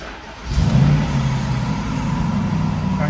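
A Jaguar XK's engine cranks and catches about half a second in, then settles into a loud, steady, rumbling idle with a slight rev right after starting.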